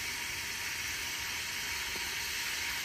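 Chopped onion, garam masala and green chillies fry in hot oil in a cooking pot, making a steady, even hiss throughout with no voices.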